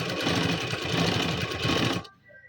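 A sewing machine runs steadily, stitching along the folded edge of a pleated fabric lehenga, a close continuous mechanical whir that stops abruptly near the end, leaving a faint quiet tail.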